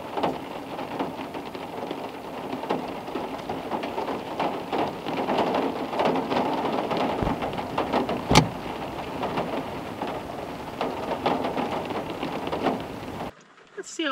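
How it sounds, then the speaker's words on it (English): Rain falls outdoors in a steady, fairly loud hiss, with a single sharp crack partway through. The sound cuts off abruptly just before the end. "Let's see how much it's raining."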